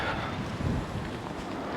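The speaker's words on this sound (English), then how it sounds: "There's quite the wintry gusts coming." Wintry wind gusts buffet the microphone outdoors beside a parked car, a steady low rushing roar with a slight surge in the middle and no talking.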